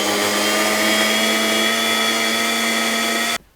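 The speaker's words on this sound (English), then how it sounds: "So the puree's been blended now" A blender purees cauliflower with a loud, steady high-pitched whir that holds constant, then cuts off abruptly near the end.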